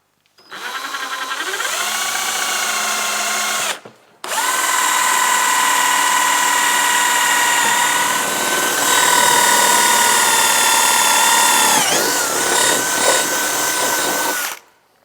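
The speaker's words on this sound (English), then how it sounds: "Then follow it up with your big drill bit." A power drill fitted with a large bit whines loudly and up close while enlarging a hole for an SLP door on a Polaris RZR 900XP. One short run and a brief stop lead into a long, sustained bore, with the pitch dipping under load.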